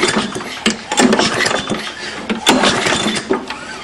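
A lawnmower engine runs with its muffler removed, and a burnt exhaust valve makes a rapid, uneven chuffing and popping with each exhaust pulse, loud and close up.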